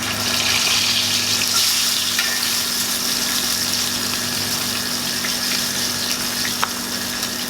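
A dry-aged ribeye steak sears in a pan of rendered fat, giving a steady, close, fairly loud sizzle and crackle that runs unbroken throughout with a faint low hum beneath.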